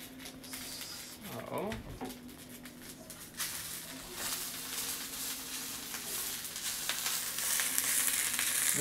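Kale sizzles and fries in a non-stick pan on a stovetop over medium heat, a steady crackling hiss that holds throughout under a voice talking, with a brief stirring clatter early on.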